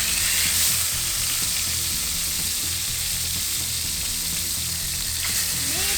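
Fish fries in olive oil in a hot pan, giving a loud, dense, unbroken sizzle that stays close and even throughout, with no talking.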